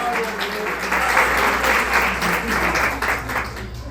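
A church congregation bursts into loud applause that swells in the middle and holds steady, with many hands clapping together in a thick, continuous roar.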